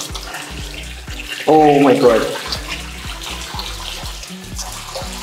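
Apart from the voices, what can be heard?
water running strongly from bathroom tap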